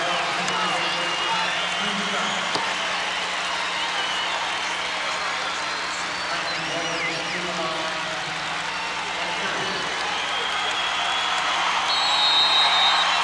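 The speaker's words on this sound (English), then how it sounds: "You can hear the crowd" Crowd noise in a basketball arena during a 1996 IHSA Class AA boys' championship game between Peoria Manual and Harvey, a continuous roar of spectators that swells toward the end, with a commentator talking over it.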